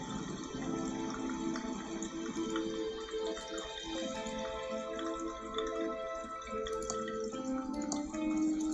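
Water runs into a glass in the point-and-click game Thimbleweed Park. The soft, trickling fill and dripping sit quietly beneath a tonal game music bed.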